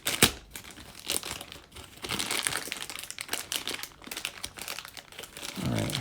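Plastic packaging around a smoked LED motorcycle taillight for a 2019 Super Duke GT is torn open by hand, with close, busy crinkling and ripping bursts of varying loudness throughout.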